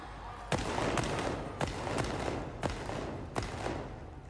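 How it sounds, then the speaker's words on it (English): Royal Navy field gun fired during a 1988 field gun competition run: about six sharp, loud bangs in an uneven series, each cutting through a steady wash of crowd and arena noise. "Fire the gun."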